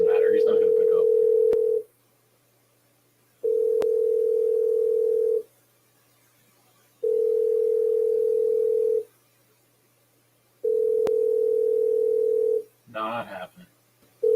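An unanswered phone call rings out as repeated long ringback tones, four even pulses separated by silent gaps, followed by a brief burst of voices near the end.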